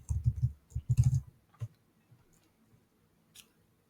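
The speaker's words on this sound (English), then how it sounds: "So why don't we just type it out?" Clicky bursts of typing on a computer keyboard, several quick keystrokes close up in the first two seconds, then a few sparse isolated taps fading into near silence.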